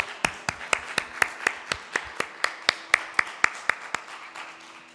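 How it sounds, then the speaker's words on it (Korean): Congregation clapping together in church at a Sunday worship service, a steady rhythmic run of about twenty sharp, evenly spaced claps with no talking. "하나님께 영광 박수 올려드리겠습니다."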